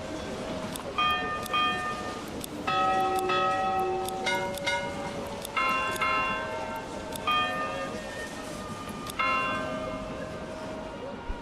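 Repeated bell strikes chime from a church-style bell in the medieval village game Manor Lords, each stroke ringing with bright layered overtones and decaying before the next, a steady peal of many strokes over a quiet ambient bed.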